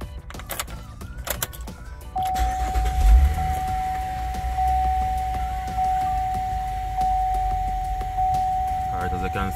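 A car with an airbag warning light is cranked and starts, a short burst of cranking turning into a steady idle hum with a constant high warning tone, and someone talking just before.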